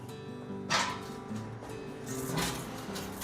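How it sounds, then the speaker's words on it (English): A space heater runs in a cold garage with a steady low hum, while scattered louder knocks and clatter of things being moved break in close by. "Sorry about the noise from the heater, but gotta have it."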